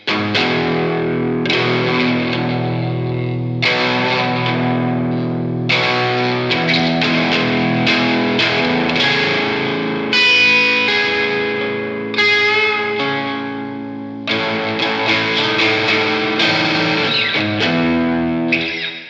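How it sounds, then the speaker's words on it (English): An electric guitar with single-coil pickups plays clean, bright chords and picked notes with a light reverb tail, steady and continuous throughout, with no voices. "let's give a listen to that tone, but with some single coils and just a slightly touched up EQ and reverb"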